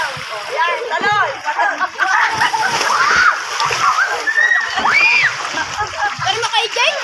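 A child splashes into resort pool water near a slide, with repeated sloshing and splattering while children and adults talk and call out loudly throughout.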